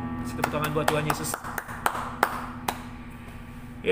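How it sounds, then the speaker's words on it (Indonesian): Scattered hand claps from a teen church service congregation ring out over lingering music and voices, a handful of sharp, irregular claps that thin out toward the end. "Tepuk tangan buat Tuhan Yesus."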